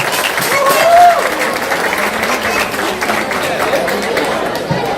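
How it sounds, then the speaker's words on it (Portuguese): Steady crowd applause with chatter mixed in at a fandango festival on Ilha dos Valadares, a broad sustained wash of clapping and voices that swells briefly early on before settling. "Vamos aplaudir."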